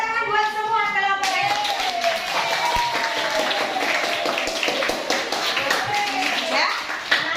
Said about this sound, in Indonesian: Tepuk tangan buat semua kelompok.